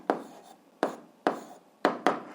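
Pen writing an answer by hand on paper during an algebra lesson: five short scratchy strokes with brief pauses between, close and fairly quiet, with no talk over them.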